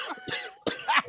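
A man in a 1994 movie coughs two or three times in quick, harsh bursts, close and fairly loud against a quiet background.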